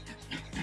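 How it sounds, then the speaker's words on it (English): A dog breathes heavily and rhythmically in the background, close by, while someone cuts out circles for a jewelry bead board; no talk during the breaths. "the heavy breathing is my dog"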